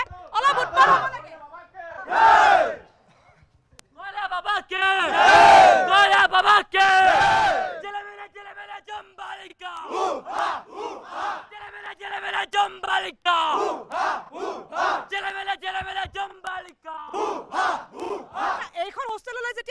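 A crowd at a college hostel gathering yells, whoops and cheers loudly in voiced bursts that rise and fall, with overlapping chatter and shouts throughout; clapping is not clearly distinct.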